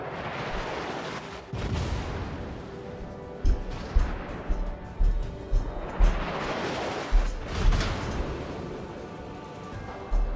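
Battleship Roma's main guns firing in a naval warfare video game, heavy booming salvos with rumbling blasts around 2, 3.5 and 7.5 seconds over continuous battle noise, loud and close.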